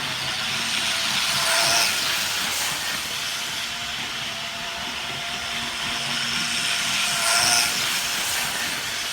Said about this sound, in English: Beautiful train, beautiful.